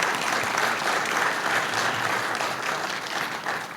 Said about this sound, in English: please give our panel a big round of applause